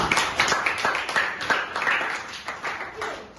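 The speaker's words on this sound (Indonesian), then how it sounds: "tepuk tangan untuk Nadia." A class of ninth-grade students at a junior high school in Tangerang claps for a classmate, steady moderate applause with quick rhythmic claps close by, with some voices mixed in.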